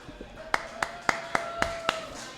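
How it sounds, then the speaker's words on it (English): Six evenly spaced claps ring out in a small live studio show setting, slow and deliberate like one or a few people clapping, over a steady hum. "Yeah, you can applaud."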